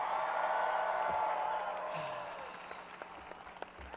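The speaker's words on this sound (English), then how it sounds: "I can't believe this crowd." Large outdoor crowd at a March for Science rally in San Francisco applauding and cheering loudly, a dense roar that slowly fades toward scattered claps by the end.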